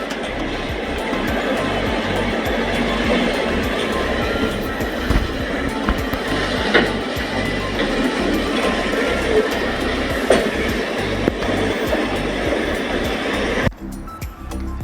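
A railway coach moved by a rail lifter without a locomotive inside the Mughalpura carriage factory workshop in Pakistan gives a steady, loud mechanical rumble with rattling and occasional clanks, continuous throughout, then cutting abruptly near the end.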